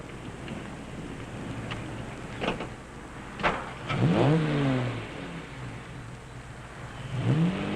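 Antique cars rev their engines at the start of an opening race, a steady mid-pitched drone under wind with rising and falling revs swelling around the middle and again near the end.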